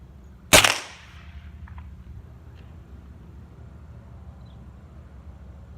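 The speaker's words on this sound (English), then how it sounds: "Alright, third shot with the Hyper Max." A single sharp, loud air rifle shot fires a Hyper Max pellet toward a target set in front of sandbags, a sudden crack that fades quickly into quiet background hum.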